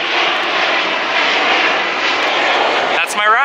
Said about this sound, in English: there's even a plane